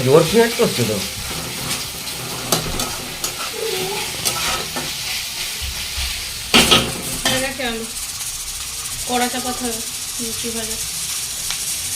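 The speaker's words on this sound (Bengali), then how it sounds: "এদিকে কড়াই বসানো হয়ে গেছে পেঁয়াজ কষা হবে" Onions sizzling in a wok as they are stirred, with clattering spoon scrapes over continuous frying hiss, while people talk nearby.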